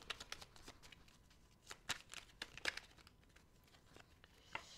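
Tarot cards shuffled and drawn by hand, a quiet run of soft riffling, flicking and papery slaps with a few sharper snaps, close and alone with no talk.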